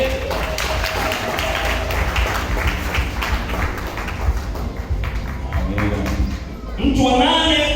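Congregation applause for a pastor being honoured at a large Pentecost church conference, with steady, dense clapping from many people throughout while someone speaks over it.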